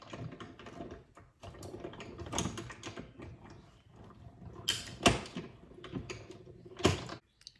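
A paper die-cutting machine is cranked through a stamping craft project, giving a quiet run of close, irregular clicks and clunks with a few sharper knocks.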